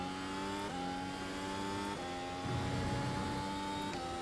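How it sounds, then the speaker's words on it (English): Engine of a Mercedes W13 Formula 1 car in the iRacing sim revving hard under full throttle up a hill, with harmonic whine stepping through gear changes and a rougher burst as the rear wheels spin up. "I just heard the rears spin up."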